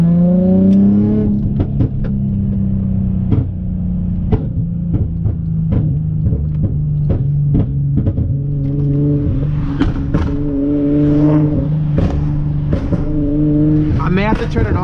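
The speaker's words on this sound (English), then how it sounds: "The car popped like crazy." Tuned Infiniti G35 coupe engine heard from inside the cabin in winter, revving repeatedly with sharp pops and backfires crackling between pulls, loud and close, with a voice talking briefly over it.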